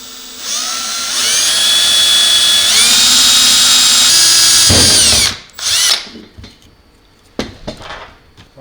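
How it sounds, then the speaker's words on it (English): A power drill bit whining steadily into the metal housing of an explosion-proof motion sensor, loud and close for about five seconds, then stopping, with a few clattering handling knocks afterward. "take your drill bit, making sure it matches"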